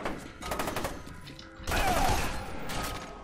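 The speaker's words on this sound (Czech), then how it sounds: "Hej, on střílí," An enemy fires at the player in the shooter game F.E.A.R. 2, rapid gunfire bursts and mechanical clatter sounding moderately loud, with a short pause in the middle before the firing picks up again.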